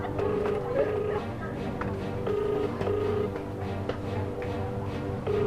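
Repeated ringback tone from a telephone call placed to a dental clinic, ringing in steady evenly spaced bursts with no answer, over a faint background hum.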